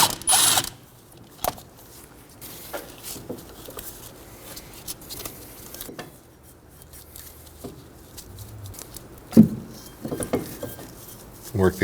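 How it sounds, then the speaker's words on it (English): A 14mm ratchet works a rear brake caliper slide pin bolt on a 2003-2006 Subaru Baja, giving scattered clicks and metallic taps up close in a quiet garage, with occasional louder knocks. "Using a 14mm, I'm going to remove one of our slide pin bolts."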